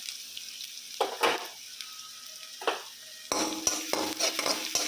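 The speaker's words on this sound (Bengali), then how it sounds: "পেঁয়াজটা ভাজা হয়ে যায় হালকা হালকা।" Onions sizzle gently in a pan while a spatula scrapes and knocks against the metal now and then. The stirring grows busier and louder toward the end, with no speech.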